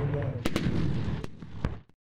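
Military helicopters fire on a target area during an anti-terror exercise in Almaty region, Kazakhstan, producing several sharp heavy shots over a continuous roaring rumble that then cuts out abruptly.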